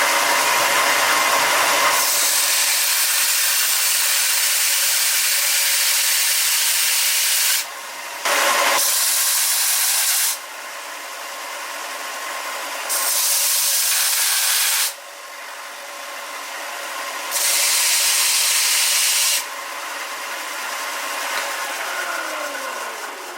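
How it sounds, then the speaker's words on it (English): A belt sander grinds down a speedometer part from a vintage Honda CT70 Dax mini trail, loud harsh rasping in repeated bursts of several seconds each, with the motor whirring steadily between passes. "This is the easiest way to do this, not with a Dremel cut-off wheel, but with a belt sander."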